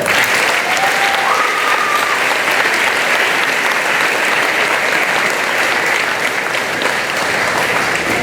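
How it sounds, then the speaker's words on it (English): Graduation ceremony audience giving sustained, dense applause throughout, loud and close with steady clapping and a brief whistle-like tone early on, no talking over it. "So we give them a round of applause."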